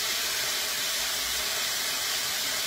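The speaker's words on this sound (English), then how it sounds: "I'm going to sear these pieces and then sear the next ones" Thin strips of steak searing in a hot pan for burritos, a loud continuous close sizzle and hiss with no break.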